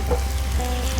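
Fresh RuRu mushrooms fry and caramelize in a hot pan, giving a steady, even sizzle that stays moderately loud throughout with no voices.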